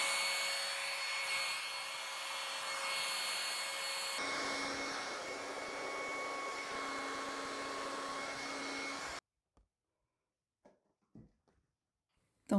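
A hair dryer blows white paint over the edges of a canvas in a Dutch pour painting. A loud, steady whooshing hum shifts pitch partway through and cuts off after about nine seconds, leaving a few faint taps.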